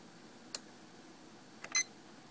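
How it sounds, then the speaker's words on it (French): A laboratory timer on an Agilent Bioanalyzer setup gives a short electronic beep after two faint clicks, close and isolated in a quiet room. "Et je déclenche le minuteur."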